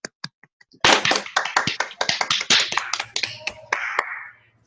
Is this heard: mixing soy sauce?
no